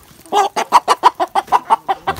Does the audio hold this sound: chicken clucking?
yes